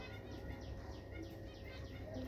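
Zebra finches kept in a small home aviary, faint repeated high chirps and tweets over a low background hum, fairly distant and quiet.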